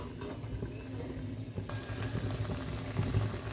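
Pabda fish curry with amra bubbling and simmering in a covered pot, a steady soft boil with small pops and liquid patter, close and continuous, with no talk.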